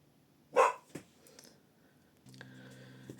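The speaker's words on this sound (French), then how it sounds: "c'est ça d'avoir des chiens" Dogs barking indoors: one sharp, loud bark followed by a couple of quieter yips, then a steady tonal hum enters under the last second.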